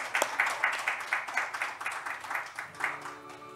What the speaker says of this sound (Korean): 큰 박수로 3부 마무리하겠습니다.